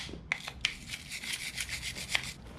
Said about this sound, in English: clean everything up with a brush inside and make sure that all the surfaces are nice and clean with no brake dust on them